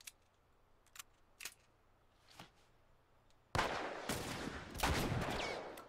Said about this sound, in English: Boom, headshot.